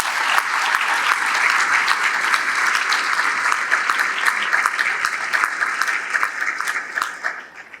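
Sustained audience applause fills a closing session of an awards event, a dense steady clatter of many hands that carries on for several seconds before tapering slightly at the end.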